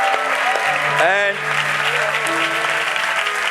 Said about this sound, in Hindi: Come on, great clap for Yeshua.